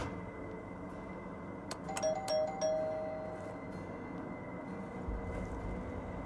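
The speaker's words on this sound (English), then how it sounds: "Oh, doorbell." A doorbell in the video game Deathloop rings several bright chiming tones over a steady low hum, fairly quiet and without talk.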